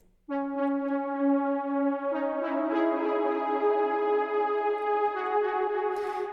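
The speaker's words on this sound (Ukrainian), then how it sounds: "був літ, який звучить ось так у соло." A retro analog synth lead plays a sustained, bright solo line with rich harmonics and a couple of pitch shifts, loud and close with no voices.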